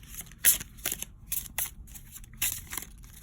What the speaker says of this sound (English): I like shuffling for you guys